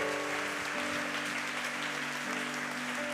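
A church congregation applauds together in a steady, dense wash of clapping that carries on throughout, with a faint musical tone underneath.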